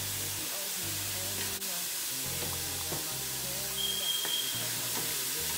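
Chicken, bok choy and mixed vegetables fry steadily in a hot pan, a constant broadband sizzle with scattered stirring clicks and a brief hiss of steam near the end, close and fairly even throughout.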